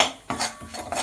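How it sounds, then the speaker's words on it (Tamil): Pumpkin seeds being stirred and roasted in ghee in a pan for a healthy burfi, a few clinking scrapes of a spoon against metal, close and distinct. "அடுத்தது பம்கின் சீட்ஸ், இது நெய்யில் நல்லா வறுக்கணும்."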